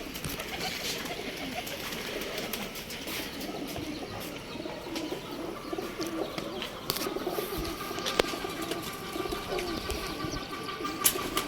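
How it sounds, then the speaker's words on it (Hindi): Pigeons coo softly and repeatedly among a busy loft, with faint chirps and occasional wing flaps over steady background noise. "ये वाला कबूतर है"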